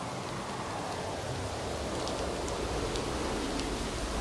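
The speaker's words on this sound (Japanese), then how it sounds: "小雨になったな。" Light rain falls steadily in the video game Synduality Echo of Ada, a soft, even hiss of drops spread across the whole moment with no talking over it.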